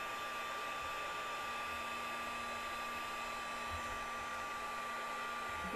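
A heat tool blows hot air steadily over glitter on a craft tag, giving a constant, fairly quiet whirring hiss that runs unbroken from start to finish with no talking.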